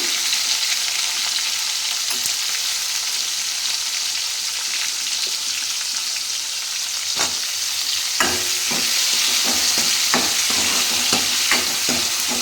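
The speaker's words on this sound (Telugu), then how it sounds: "టమాటాలు వేసుకోవాలి ఫస్ట్ అయితే టమాటా ఇందులోనే చింతపండు కూడా వేస్తాను" Tomatoes and tamarind fry in a pan with a constant loud sizzle, while a spoon scrapes and stirs in scattered clacks, growing more frequent toward the end.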